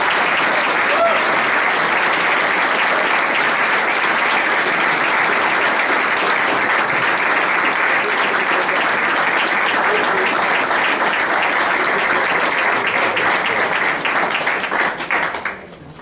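Sustained, dense applause from a large audience at a city presentation on Main Street in Mason City, steady and loud for the full stretch before tapering off sharply at the end.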